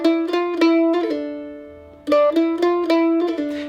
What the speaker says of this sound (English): We have a hammer on pull off slur there in our rhythm.